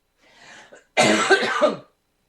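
A faint breath followed by a single loud, harsh cough up close.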